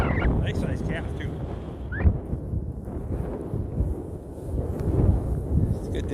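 Wind blows outdoors on a farm on a mild, sunny day, a steady low rumble that buffets the microphone with a few faint high chirps above it.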